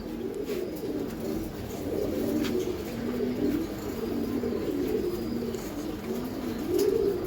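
Giribaz high flyer pigeons coo in a steady, overlapping chorus, a low throaty murmur that keeps going throughout at a moderate, close level with no voices.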